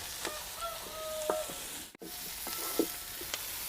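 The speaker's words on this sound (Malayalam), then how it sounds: "സവാള കണ്ട നല്ല ഭംഗിയിൽ വാടിക്കൊണ്ടിരിക്കുമ്പോൾ അതിലേക്ക് പച്ചമുളക് ഇടുകയാണ്" Sliced onions wilting in oil in a pan as green chillies go in, during Kerala home cooking; a soft, steady sizzle with a few light clinks and scrapes.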